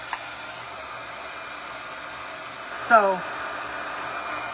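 A hair dryer blows on a 1973 ceramic picture frame during a makeover, a constant close hiss of rushing air throughout, with a brief clack and a short voice cutting in near the end.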